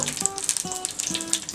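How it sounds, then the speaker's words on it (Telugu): Green chillies fry in hot oil, giving a light, steady crackle and pop with a few brief sharper spits, fairly quiet and close. "కొంచెం ఆయిల్ హీట్ అయ్యాక మిర్చి వేసుకోవాలి."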